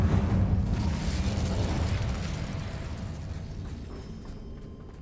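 In the video game Hogwarts Legacy, the Incendio fire spell goes off in a loud whooshing burst of flame that slowly fades away.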